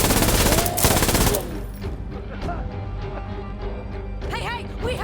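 AK-74 gunfire in the video game Insurgency Sandstorm, a loud sustained automatic burst followed by scattered single shots and mechanical clatter, with voices shouting over the combat.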